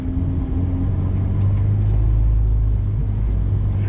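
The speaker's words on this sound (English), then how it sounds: "I'm driving a Ferrari." A 2007 Ferrari F430 being driven, its engine giving a steady low rumble from inside the car, fairly loud and even throughout with no talking.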